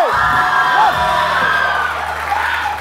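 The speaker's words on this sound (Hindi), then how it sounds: "एक बार फिर बहुत सारी तालियां" Studio audience on a TV morning show applauds and cheers, a dense loud crowd roar with whoops and shouts running throughout, voices rising over the clapping.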